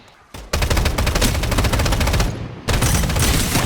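Loud, rapid automatic gunfire from the Strinova shooter game rattles out in dense continuous bursts, broken by one short pause before resuming just as hard.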